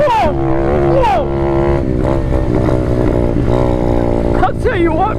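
Apollo 125 RFZ Chinese dirt bike, a small pit bike, roaring steadily in 4th gear with rising and falling engine pitch as it revs, close and loud, while a rider's excited voice shouts over it.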